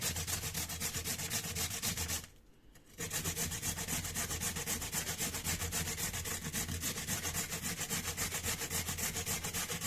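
A raw purple potato is rubbed against a basic hand grater in quick rhythmic rasping strokes, close and steady, with a brief pause near the start before the strokes resume.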